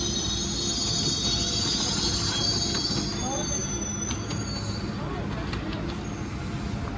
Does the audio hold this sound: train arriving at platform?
yes